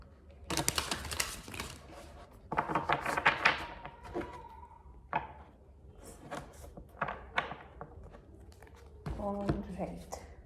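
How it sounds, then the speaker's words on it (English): Tarot cards being shuffled by hand, repeated quick papery riffles and slaps in short bursts separated by pauses, close and fairly quiet, with occasional soft knocks. "More shuffling."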